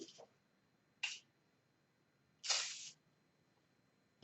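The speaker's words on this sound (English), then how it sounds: "what I'm going to do is just do a very quick spritz across the top of there," WD-40 is spritzed over poured acrylic paint in three short, sharp hissing bursts, the last one longest, against a quiet background.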